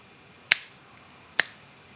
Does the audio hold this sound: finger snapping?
yes